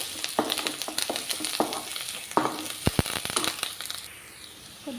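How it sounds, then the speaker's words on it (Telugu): Curry leaves frying in hot oil for a Telugu ridged gourd and chicken skin curry, a steady close sizzle with crackling pops and stirring scrapes throughout, no voices. "పచ్చివాసన పోయే వరకు వేయించుకోవాలి."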